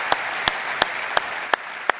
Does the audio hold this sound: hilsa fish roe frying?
no